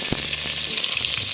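Ginger, luya, fries in hot oil in a wok while cooking dinuguan, giving a constant bright sizzle with a few soft knocks of stirring underneath and no speech.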